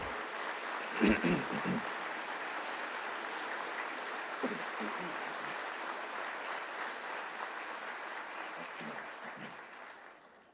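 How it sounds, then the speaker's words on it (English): Audience applause at the Harris County State of the County event in Houston honoring county officials and employees, a steady sustained clapping that holds throughout and fades slightly near the end. "stand so that we can applaud you at the very beginning"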